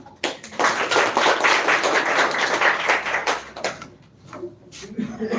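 An indoor audience claps for a mentor after a motivational speech, a dense burst of applause lasting several seconds before thinning into a few scattered claps.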